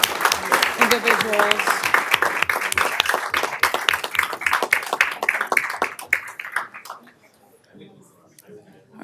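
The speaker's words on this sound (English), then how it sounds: "Can we just do another round of applause to two amazing" An audience claps in a round of applause, distinct individual claps close by that carry on for about six seconds and fade out, with a voice speaking over the start and near the end.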